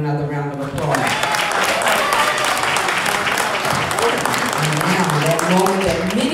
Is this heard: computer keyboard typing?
no